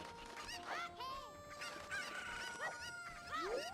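Cuccos, the chickens in an Ocarina of Time randomizer game, cluck and squawk in several chirpy bursts over a steady background hum, with faint voices underneath.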